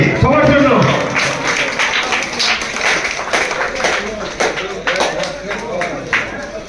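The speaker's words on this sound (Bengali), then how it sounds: "জোরে একটা হাত হাততালি" A crowd claps at a football tournament prize-giving, with a steady patter of hands running beneath someone talking over a loudspeaker.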